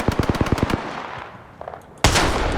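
Rapid bursts of automatic gunfire in Apex Legends end, and after a quieter pause with faint game sounds a single loud, heavy sniper blast from the Kraber rifle goes off up close.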